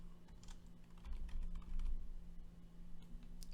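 Steady tapping on a computer keyboard as a portfolio name is typed, keystrokes close and fairly quick, with a brief denser burst midway over a low, constant hum.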